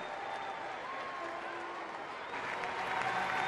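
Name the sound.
Fenway Park crowd applauding Buchholz leaving the game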